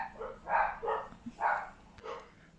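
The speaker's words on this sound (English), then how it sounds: "I'm really sorry if you can hear the dogs barking." Several muffled dog barks come in an uneven series, somewhat distant and soft, with brief gaps between them.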